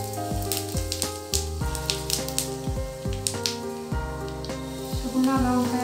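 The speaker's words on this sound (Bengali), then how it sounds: "তেল গরম হয়ে গেছে, এখন আমি সাদা জিরে দিয়ে দেব।" White cumin seeds sizzle in hot oil, with a soft continuous crackle and hiss running beneath steady tonal background music.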